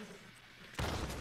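A shotgun blast in Red Dead Redemption 2, a single sharp, loud shot bursting in partway through after a quiet stretch, with a brief decaying tail.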